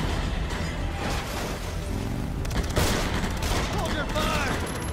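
Sustained gunfire in the video game Beyond: Two Souls, a dense rattling fusillade with scattered louder bursts and booms running throughout, layered under game voices and noise.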